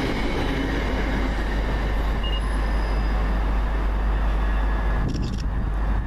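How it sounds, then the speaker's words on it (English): A train arrives at Hemel Hempstead station, rumbling steadily close by, a continuous loud low roar of rail traffic with faint metallic squeals running through it. "Here comes our train."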